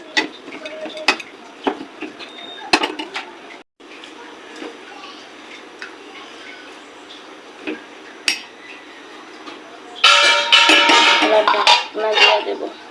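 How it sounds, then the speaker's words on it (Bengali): Salted taro stolon curry stirred in a pan, a metal spatula tapping and scraping close up in irregular knocks, swelling into a louder, busier burst of scraping and sizzle near the end. "লবণটা দিয়ে নাড়াচাড়া দিয়ে দেন।"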